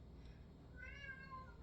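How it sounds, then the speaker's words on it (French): A pet cat gives a single drawn-out meow in a quiet room, soft and somewhat distant over a low steady background hum. "j'ai des chats parleurs ici. Donc, si vous venez d'entendre mon Simba"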